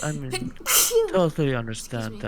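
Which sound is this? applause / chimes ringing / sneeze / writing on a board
sneeze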